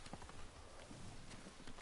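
Horse hooves clip-clop in Ghost of Tsushima, a quick, steady rhythm of hoofbeats heard close and faint over a noisy background.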